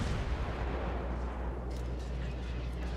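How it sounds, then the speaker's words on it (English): Incoming artillery shells in a naval combat video game make a continuous heavy, roaring rumble of distant bombardment that holds steady and low throughout. "I hear shells coming in"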